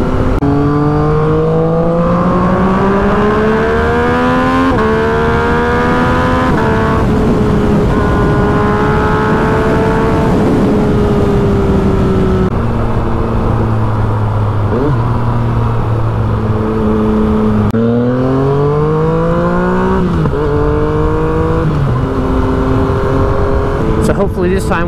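A Stage 3 Kawasaki KLX351 motorcycle engine revs hard on a dyno, running up through the gears with rising pitch sweeps, then downshifting and ripping again, loud and close.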